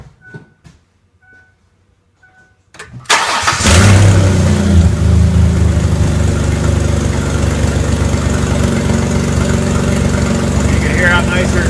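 A Mercury Monterey's engine, with misfire faults and oxygen sensors removed, cranks and catches, then settles into a loud, steady running roar; a few faint beeps and clicks come before it starts.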